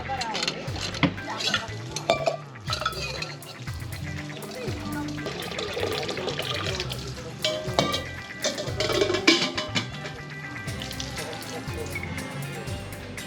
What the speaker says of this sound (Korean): 설거지하러 가자.